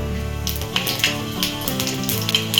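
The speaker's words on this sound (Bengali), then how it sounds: "তেলটা গরম হয়ে গেছে দিয়ে দেবো অল্প মতো পাঁচ ফোড়ন" Panch phoron whole spices hitting hot white oil, a bright crackling sizzle with sharp pops and a few clinks of a utensil against the pan under soft background music.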